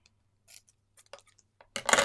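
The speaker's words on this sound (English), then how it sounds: "So let me get all of these cut apart" Scissors snipping apart cover plate pieces to make stencil masks: a few soft, separate clicks and snips in a quiet room, ending in a louder burst of cutting and rustling.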